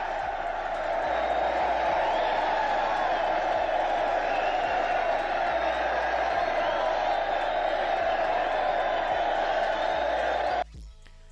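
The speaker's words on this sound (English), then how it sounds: "That was the sound of 700 people in the crowd cheering" A crowd of about 700 people cheers as one continuous, dense roar that holds steady, then cuts off abruptly near the end.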